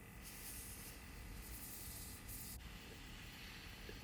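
An airbrush sprays paint onto a model railway coach, a steady soft hiss that runs continuously with slight brightening pulses, close and fairly quiet.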